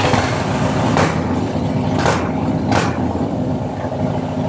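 A Harley-Davidson twin cam motorcycle engine runs after a spark plug change, a steady loud, close rumble throughout with three sharp bursts of noise over it.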